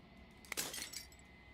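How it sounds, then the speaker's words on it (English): Glass shattering in the video game Slay the Princess: a quiet, brief burst of breaking and tinkling fragments that fades out within a second. "As the final fragment of glass shatters, you see yourself."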